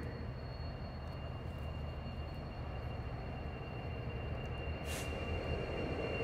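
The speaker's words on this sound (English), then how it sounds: "We got a train in here." A train of light power locomotives rolls through a rail yard near a turntable, producing a steady loud rumble of wheels on track with a faint high wheel squeal, close by and continuous throughout.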